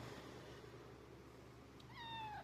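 A shop cat lets out a single short meow near the end, rising clearly over a steady low hum of the workshop.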